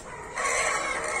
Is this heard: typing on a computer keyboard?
no